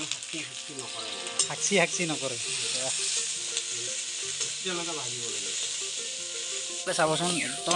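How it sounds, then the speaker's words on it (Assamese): Dried kachki fish fries in a pan, a loud, constant close sizzle with a spoon stirring and scraping through it from start to finish. "এনেকুৱা ফ্ৰাই কৰিছে মানে পূৰা ৰঙচীয়া হৈ যোৱাকৈ"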